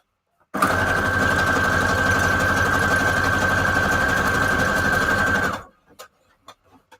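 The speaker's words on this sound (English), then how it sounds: "Got my little machine. And I'm just using zigzags to get these together." A small sewing machine runs a wide, long zigzag stitch through scrap paper strips for junk journal tabs, a steady close mechanical whir with a high whine lasting about five seconds and then stopping abruptly, followed by a few soft clicks.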